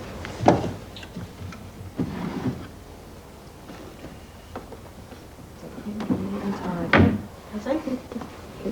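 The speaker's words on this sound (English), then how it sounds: "Little drawers here." Small drawers slide open and shut in a home, several close knocks and scrapes spaced over a few seconds with quieter handling in between and a voice talking nearby.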